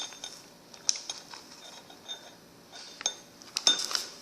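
A spoon clinks faintly against a bowl while spoonfuls of flour are added for homemade slime made without borax or glue, with a few sparse, light metallic taps spread out against a quiet background.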